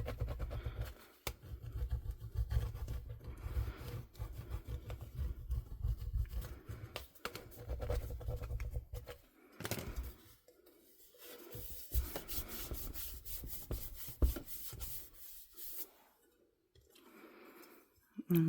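Burnishing a UV DTF transfer onto a coated tumbler gives a steady scratchy rubbing, with repeated strokes close up and a few brief pauses, and no one talking.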